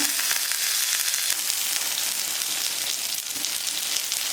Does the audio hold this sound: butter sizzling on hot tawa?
yes